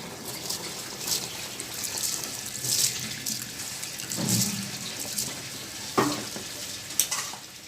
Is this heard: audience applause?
no